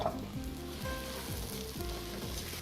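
Lentils sizzle in a pan with browned onion, a steady frying hiss broken by the clatter of a utensil stirring against the pan.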